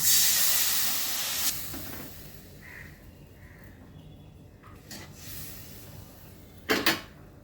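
Water poured into a pan of hot fried spices (cumin and chilli powder) for a pumpkin and fish curry: a loud, close, sharp hiss bursts out at once, then fades to a softer steaming sizzle, with a few clatters later.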